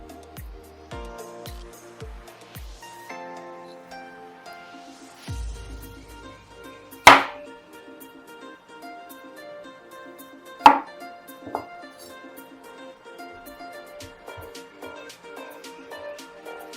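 Peeled potatoes being cut with a knife into french fry sticks on a board, a series of close, sharp chopping taps in quick bursts with a couple of louder knocks, over quiet background music.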